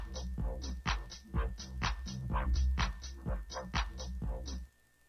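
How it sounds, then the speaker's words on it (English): A pre-recorded opening jingle plays from a button on a MaonoCaster Lite podcast mixer: a short rhythmic musical track of evenly spaced punchy hits for about four and a half seconds, then it cuts to near silence. "So there's an opening track, which is like if you were doing a live stream"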